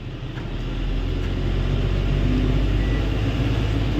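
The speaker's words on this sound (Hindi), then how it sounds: "अब निकालते हैं यहाँ से गाड़ी।" A loaded truck pulls away on a road trip from Bhuj toward Ahmedabad, its heavy diesel engine rumbling low and loud, the growl building slightly and then holding steady throughout, with no one talking.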